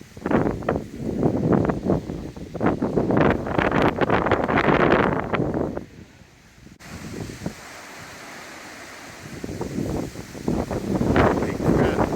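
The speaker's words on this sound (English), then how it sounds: "It is really, really windy out here." Hurricane Ian winds buffeting the microphone outdoors in Kissimmee, Florida, loud roaring gusts that drop away briefly midway before surging back strongly.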